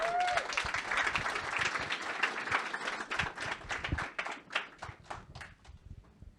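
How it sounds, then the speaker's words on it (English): An audience at a London tech meetup claps in applause that starts dense and fades into scattered claps over several seconds. "So a big applause for Renuka."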